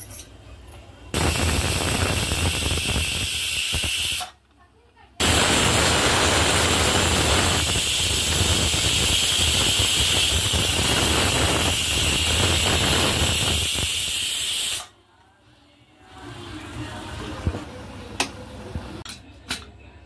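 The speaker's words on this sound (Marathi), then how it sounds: "ही चिरलेली भाजी कुकरला लावली आणि याच्या आता आपण 3 शिट्ट्या देऊन घेऊया" A loud, steady hiss of venting steam from a pressure cooker cooking chopped colocasia leaves, cutting out briefly twice, then giving way to quieter background noise with a few clicks.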